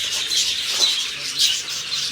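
Colorful birds chirp and tweet at a zoo, a steady chorus of small, high calls with brief bright peaks, moderately close and with no talk over them.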